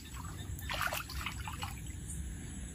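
Floodwater trickles and splashes under a house veranda during severe flooding, a steady moderately loud watery babble with a brief brighter surge early on, no voices.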